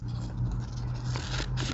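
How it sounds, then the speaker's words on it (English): Scissors snipping through a sheet of paper in a quiet room, a few soft scraping cuts close by over a steady low hum. "I'm going to take my scissors"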